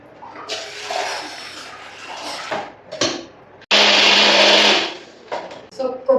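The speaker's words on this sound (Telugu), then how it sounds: "కొబ్బరి పేస్ట్ కొట్టు." An electric mixer grinder whirs loudly for one burst of a little over a second, grinding coconut paste in a home kitchen. Quieter kitchen clatter and people talking come before and after it.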